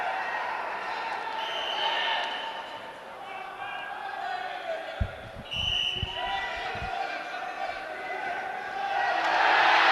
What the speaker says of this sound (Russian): Болельщики гонят вперед Алексея Копылова.